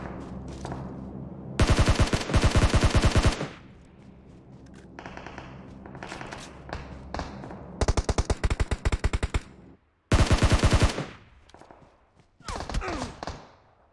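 Automatic gunfire in PUBG Mobile comes in several loud, rapid bursts of a second or two each, separated by quieter gaps with softer game sounds.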